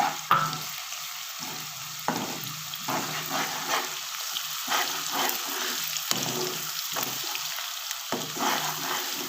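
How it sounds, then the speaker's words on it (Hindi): Ginger garlic paste browns with softened onions in a pan, giving a steady close sizzle and crackle. Spoon stirs and scrapes on the pan break in at regular intervals, with no talk. "इसको हम थोड़ा ब्राउन कर लेते हैं।"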